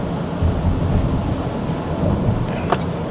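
Rain falls steadily on a Toyota Prius as it drives, a constant broadband wash of rain and road noise with a low rumble and no talking.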